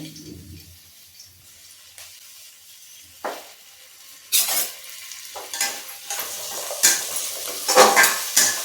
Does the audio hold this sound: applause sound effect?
no